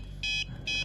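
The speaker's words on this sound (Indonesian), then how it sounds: "Semakin cepat juga LED berkedip dan buzzer semakin bunyinya semakin cepat." Buzzer on an ultrasonic distance sensor circuit sounding two short, loud electronic beeps in quick succession, close by with no talk over them.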